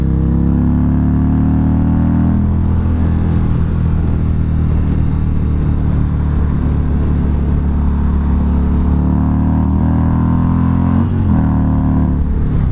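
A 2019 Indian Chieftain motorcycle engine heard while riding, with a loud, steady, low rumbling drone that holds close and constant with only slight shifts in pitch and no talking.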